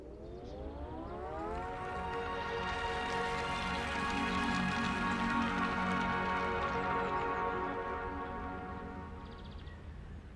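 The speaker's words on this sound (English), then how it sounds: "Here is the sound of our engine." The Fiat 500 electric car's pedestrian alert plays a melodic engine sound: sustained harmonic tones that swell in gradually, hold steady and loud for several seconds, then ease off with soft rain-like hiss underneath.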